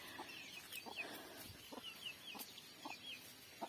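Free-ranging chickens on a village farm cluck in soft, repeated short bursts at a steady rhythm, faint and fairly close, with no talk.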